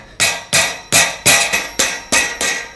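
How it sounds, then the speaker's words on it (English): End caps are tapped onto the low bed bars of a MicroSport off-road trailer, giving seven sharp, evenly spaced metallic knocks about a third of a second apart, loud and close, with nothing else heard. "Then we'll tap these end caps on."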